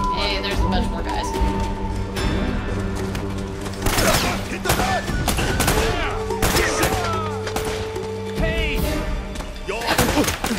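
Heavy gunfight gunfire in the video game Uncharted, repeated loud shots and bursts with thumps and crashes, layered over game music and a voice talking.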